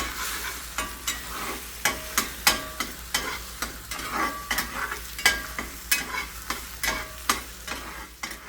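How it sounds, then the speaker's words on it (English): Four eggs being scrambled in a sizzling pan, a spatula scraping in regular strokes about every half second over a steady, close fry. "I'm scrambling 4 eggs here."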